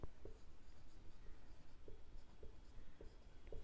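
Chalk or marker writing on a board during an accounts lesson, faint short strokes and taps spaced irregularly through a quiet room, with no talk over them.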